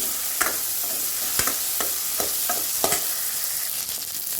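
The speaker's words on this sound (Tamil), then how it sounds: "பாருங்கள் வெங்காயம் நல்லா வதங்கிருச்சு" Onions fry in hot oil in a pan with a steady close sizzle, while a spoon stirs and scrapes at an irregular pace, with no talking.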